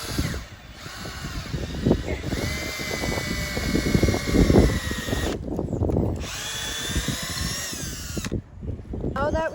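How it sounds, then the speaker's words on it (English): A power drill bores a 5/16 hole upward at an angle into a maple tree trunk, whining and grinding in bursts with brief pauses, close by, with a voice talking at times. "I'm gonna drill from this root 3 feet above, which is about right here, at an upwards angle."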